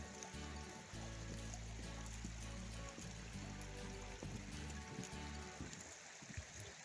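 A flowing stream near the Clarkson covered bridge, a faint, continuous trickle and babble of water heard from nearby, with a low steady rumble beneath and no talking.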